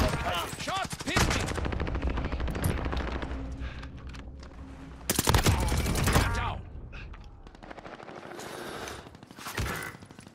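Gunfire in Call of Duty Warzone on Rebirth Island: loud bursts of rapid automatic fire and separate single shots, coming in clusters with short gaps between them, while game voice lines play.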